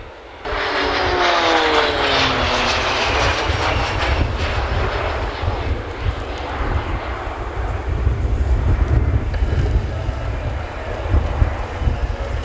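Roulettes aerobatic display team aircraft fly in formation overhead, a loud, sustained engine roar with sweeping pitch shifts as they pass, no talk.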